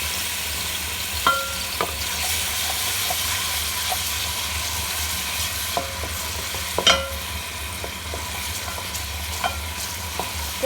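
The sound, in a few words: garlic ginger paste frying in a pot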